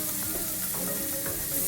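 Onions sauté in a hot pan, giving a soft continuous sizzle and crackle with faint stirring, close and steady for a brief moment.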